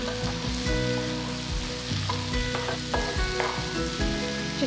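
Ivy gourd pieces frying in a pan for a South Indian poriyal side dish give a loud, continuous sizzle. Steady scraping and tossing sounds run through it, and no one speaks.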